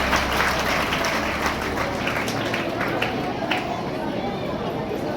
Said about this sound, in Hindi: एक बार जोरदार तालियां सबके लिए बजाने का प्रयास करें।